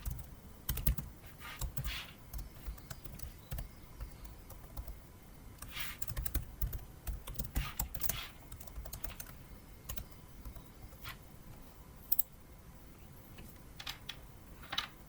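Rapid keystrokes on a computer keyboard while entering text in an ASP.NET Web Forms login page, irregular clusters of close, crisp clicks with brief pauses, heard alone without speech.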